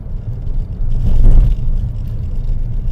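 A BYD Seagull, a small electric car, rolls over bumps at 40 km/h, heard as a low road and tyre rumble that swells into a thud near the middle, with no engine note.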